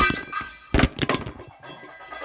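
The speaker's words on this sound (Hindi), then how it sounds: "बीच में मेरा मोबाइल का स्टैंड ही गिर गया, पता नहीं कैसे" A mobile phone stand topples over in a home kitchen during cooking, giving a sharp clattering thunk followed by a few lighter knocks and rattles as it settles.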